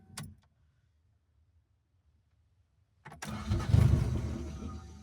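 A Toyota 4AGE engine from a 1975 Corolla KE35 cranks and fires on an open manifold, starting after a few seconds of near silence and then running loud, rough and close with mistimed ignition, with no talk over it.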